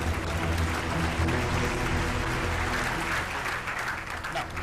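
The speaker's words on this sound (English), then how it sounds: "A big round of applause, please." Audience applause welcoming two quiz competition finalists: a continuous wash of clapping from a hall crowd with a low hum underneath, steady throughout.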